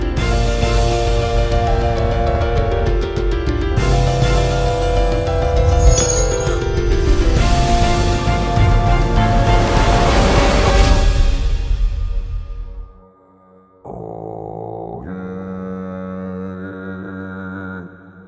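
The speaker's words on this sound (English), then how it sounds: "And then it sounds like this giant, tremendous burp" Giant burp of the pond wamper creature from the Windbound video game, slowed right down, a long dense rumbling roar that swells and then cuts off, followed by a short low tonal drone.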